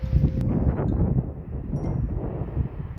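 Gusty wind in a seaside garden at Étretat buffets the microphone in a continuous low roar, with a brief faint ding early on and no voices.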